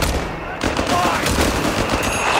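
Dense, loud gunfire from Company of Heroes 3, with overlapping machine-gun and rifle bursts clattering continuously in a battlefield din and a brief shouted voice underneath.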